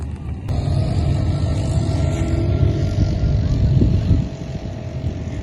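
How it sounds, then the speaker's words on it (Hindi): Motorbikes riding loudly at a biking area outside Sharjah, a continuous heavy engine roar with wind buffeting on the microphone, holding steady for about five seconds before easing slightly. "बाइक्स की आवाज़ें बहुत ही ज़ोर शोर से हमारे कानों को टकराती है"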